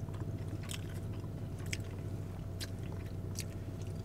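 Close-up chewing of the crunchy crust of a pesto basil pizza, with four or five distinct crisp crunches spaced out over steady outdoor background noise.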